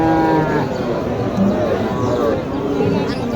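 A Sahiwal bull lows amid a crowd's steady chatter and voices, close by, at a busy outdoor cattle market in Naogaon, Bangladesh.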